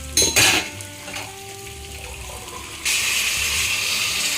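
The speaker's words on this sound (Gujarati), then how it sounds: "બે ગ્લાસ પાણી નાખી દઈએ આપણે" A pot clatters briefly, then after a quieter stretch a steady rush of water pours into a pressure cooker holding a Kathiyawadi stuffed brinjal and potato curry, loud and close until the end.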